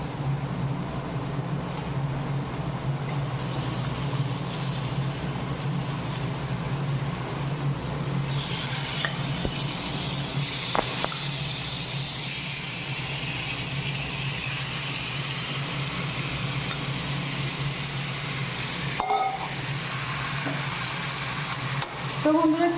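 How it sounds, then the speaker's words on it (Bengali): Chicken fries in a pan while being stirred, a continuous close hiss of frying over a low rumble, with occasional scraping and clattering from the stirring. "তো চিকেনটা দিয়ে দিচ্ছি এর উপরে।"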